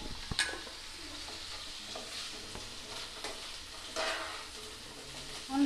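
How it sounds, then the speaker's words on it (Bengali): Potatoes and onions fry in a pan, with a steady soft sizzle, occasional stirring scrapes and a light clink near the end, all without talk. "পেঁয়াজ ভালো করে ভেজে নেব।"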